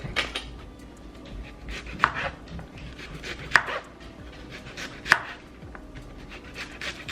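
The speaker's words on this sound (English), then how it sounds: "So I just rinsed these cucumbers off really quick. Now We're just gonna chop them up." A knife chops rinsed cucumbers on a cutting board in a kitchen, sharp uneven knocks with a few louder strikes standing out over soft background noise, no talking.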